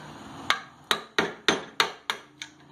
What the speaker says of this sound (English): Tap the clip out, you see it pop out the side